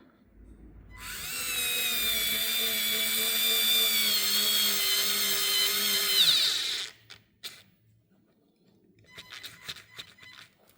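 Parkside PARS 4 A1 cordless stick screwdriver driving a screw into wood gives a steady high-pitched whine for about six seconds, stopping abruptly as the clutch disengages, followed by clicks and a short second burst.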